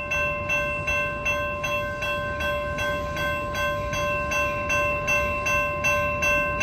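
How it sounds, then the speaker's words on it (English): Amtrak Capitol Corridor train 528 bound for Sacramento rolls past a quiet-zone crossing at 65th Street in Emeryville, California, a loud steady rumble with rhythmic clacking of wheels and a sustained high tonal whine. "Coming up next is Amtrak 528 to Sacramento at the Quiet Zone area."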